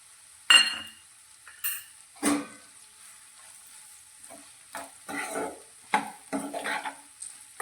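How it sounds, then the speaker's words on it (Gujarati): Okra curry with masala cooks in a pan, a faint sizzle broken by scattered scrapes and clinks of a spoon stirring against the metal, close and intermittent, with quiet stretches between strokes. "આ રીતે વચ્ચે વચ્ચે હલાવતા રહીશું અને શાકને ચડવશું"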